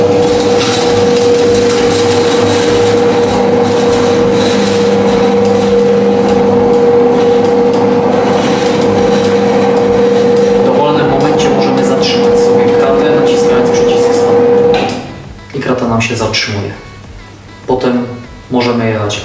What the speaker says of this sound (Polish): Naciskamy przycisk w górę i krata jedzie w górę.